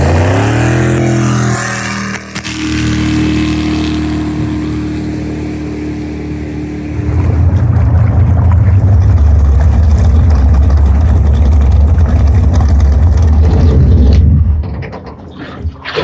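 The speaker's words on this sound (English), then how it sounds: "Motor sounds a lot happier with those plugs in it." An LS-swapped jet boat engine runs out on the water. It starts at a loud idle, then climbs into a heavy, steady roar that holds for several seconds before cutting back down.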